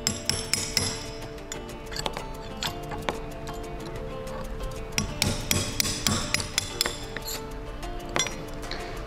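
Rapid metallic hammer taps on a punch against a bolt ring out close by in uneven bursts, with sharp clinks over a low background hum.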